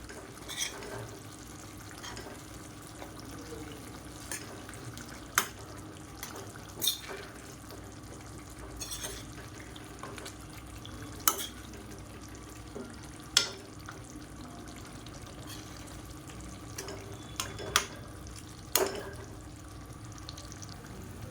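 Egg masala (egg thokku) roasting in a pan makes a low, steady sizzle, broken now and then by sharp clicks and scrapes from a spoon stirring against the pan.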